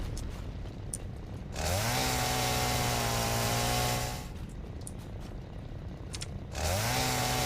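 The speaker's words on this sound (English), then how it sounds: "It's a chainsaw, we know." A chainsaw engine revs up loudly twice, holding a steady high whine for a couple of seconds each time and dropping back to a rough idle in between, with no talk over it.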